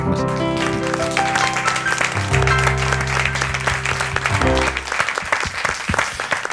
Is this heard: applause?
yes